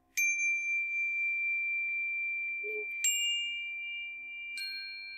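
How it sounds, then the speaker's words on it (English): A bright metal chime bell struck three times, each tap ringing out clearly and sustaining long, with a faint wooden knock between strikes. "You've probably seen my chime bell before."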